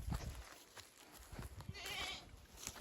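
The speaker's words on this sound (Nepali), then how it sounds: "यहाँ बाख्रा छ माइजूले पाल्नुभएको बाख्रा" Goats kept on a hillside farm bleat a few times in short, close calls, with rustling and light movement around them and no talk over them.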